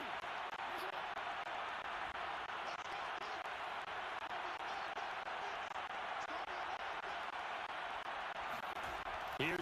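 A football stadium crowd roars steadily as a team lines up for a two-point try to win the game, a loud, unbroken wall of cheering that holds for the whole stretch.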